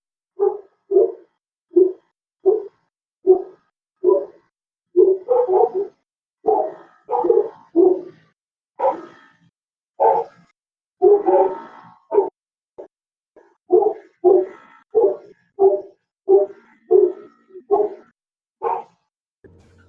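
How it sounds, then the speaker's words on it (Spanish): Dogs bark over and over for a long stretch: short, evenly paced woofs with occasional yips and quick doubled barks, heard clearly and fairly close against a silent background. "solo se escucharon los ladridos de los perros"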